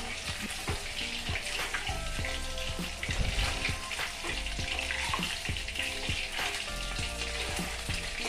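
Chicken pieces fry in white oil for chilli chicken, giving a loud, unbroken hissing sizzle close by, with intermittent light taps and clinks of a utensil in the pan.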